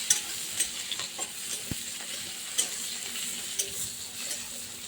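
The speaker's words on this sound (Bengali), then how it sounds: "পেঁয়াজটাকে এবার নাড়াচাড়া দিয়ে একটু লাল লাল করে ভাজা করব।" Chopped onions frying in a pan for a spicy tengra fish curry, stirred with steady scraping strokes over a soft continuous sizzle, close and moderately loud, with no voices.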